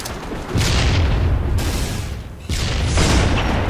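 Two heavy booming sniper rifle shots ring out in a video game, each a sharp blast followed by a sustained rumbling tail, spaced about two seconds apart.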